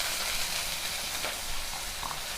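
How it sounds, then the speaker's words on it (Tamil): Chopped onion, green chillies and curry leaves sizzle softly in a pan for Tamil-style beans poriyal, a faint, steady frying hiss with a few small crackles. "இப்போ இதை வதக்கிடலாம்."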